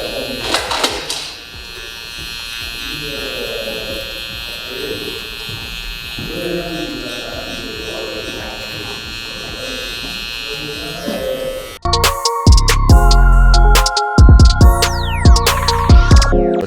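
An electric hair clipper buzzes steadily while cutting hair for a taper fade, a close, continuous drone that turns into a louder, clattering buzz near the end.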